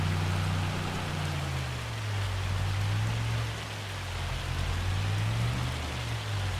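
Dense, continuous hail drumming down in Farming Simulator 25, a steady loud patter over a low rumbling vehicle engine hum that rises and falls, no voices.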